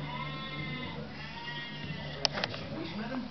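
A sheep bleats in a short wavering call, followed by a couple of sharp knocks, all over a busy background with other sounds mixed in.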